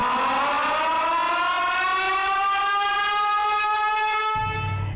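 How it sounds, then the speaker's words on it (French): A civil defense siren wails loudly from a belfry in France, a single sustained rising tone that holds steady and then begins to wind down, close and alone with no voices. "toutes les sirènes de France qui sonnent tous les premiers mercredis de chaque mois"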